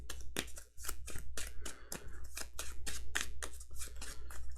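Cards from an Earthborne Rangers game deck being shuffled, a rapid run of crisp riffling and snapping bursts close by, fairly quiet and with no talk over it.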